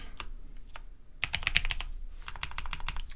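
Fingers typing on a computer keyboard, sparse clicks at first, then quick bursts of keystrokes close by, with no speech.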